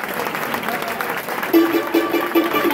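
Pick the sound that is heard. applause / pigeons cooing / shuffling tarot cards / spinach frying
applause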